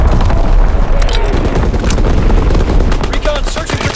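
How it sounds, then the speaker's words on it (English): An artillery battery fires in the World War II shooter Call of Duty: WWII, with rapid overlapping booms and cracking blasts rolling in loud, dense succession, heavy low rumble underneath, and no gaps in the barrage. "Firing primary battery."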